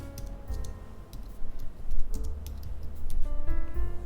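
Typing on a computer keyboard: irregular, close, crisp key clicks in uneven bursts over a low background hum, with no talking.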